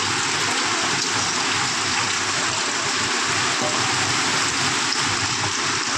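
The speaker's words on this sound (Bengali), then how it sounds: "আবার এক নাগারে বৃষ্টি হয়েই যাচ্ছে" Continuous rain falls outdoors as a dense, even hiss that holds at a constant level, with no pauses and no voices.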